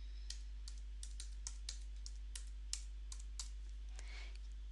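Fingers typing a password on a computer keyboard, a quiet run of light clicking keystrokes at an uneven pace over a steady low hum, no talk.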